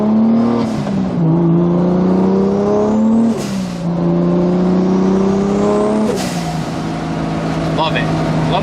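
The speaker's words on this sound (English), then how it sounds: "Love that blow-off valve too." Toyota Supra engine pulling hard close up, rising in pitch through several gear changes, each shift marked by a sharp burst of hiss from the blow-off valve, a sustained loud drone with wind noise.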